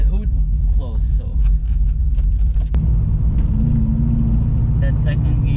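A cammed car engine with no tune drives in second gear with the hood closed, giving a loud, continuous low rumble throughout while a person talks over it.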